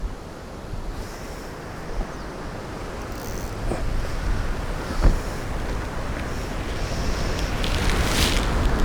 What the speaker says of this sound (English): wait for that gust of wind to go